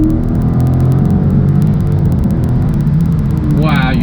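A 2016 Dodge Charger Scat Pack accelerates hard at full throttle in second gear, a loud deep engine roar sustained and steady from start to finish, heard close from inside the car, with a brief higher whine near the end.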